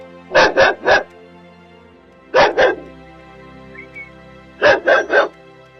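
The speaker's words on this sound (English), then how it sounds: "We have a loose dog that's around the scene, possibly might be the victims." A loose dog near a crime scene barks in three separate bursts of two or three loud, close barks each, with quiet pauses between them.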